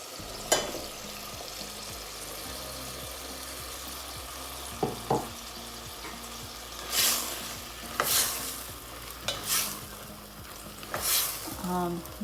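Bottle gourd (lauki) cooking in a pan with soft tomato, a low steady sizzle throughout with several louder scraping stirs of a spoon against the pan, close by and without talk.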